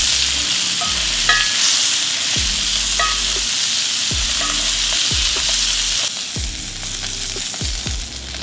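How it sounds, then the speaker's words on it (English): Wagyu steak sizzling loudly in a pan with garlic as it is basted, a dense continuous hiss with occasional low spoon knocks and scrapes, close and constant. "Proceed to add a knob of garlic. And baste the steak."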